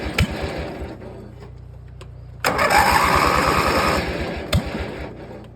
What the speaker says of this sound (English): we're gonna go for a little ride if I can get this thing started